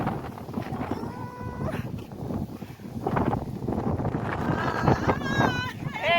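Strong wind gusts across a hilltop mountain summit, a steady roaring rush that builds toward the end, with people talking over it throughout.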